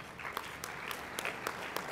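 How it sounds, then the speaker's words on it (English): Applause from attendees at a mayors' climate protection luncheon, fairly soft and somewhat distant, a continuous patter of many hands with a few sharper individual claps popping out. "give him a round of applause"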